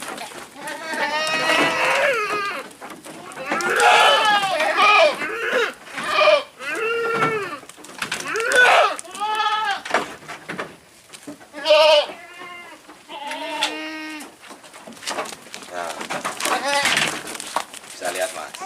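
Many goats bleating in a fattening pen, loud overlapping quavering cries close by, coming in repeated bursts with short gaps, some calls high and some lower.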